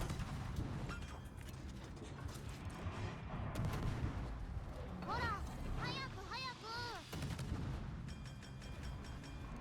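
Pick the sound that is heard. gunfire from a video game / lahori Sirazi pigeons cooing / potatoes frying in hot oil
gunfire from a video game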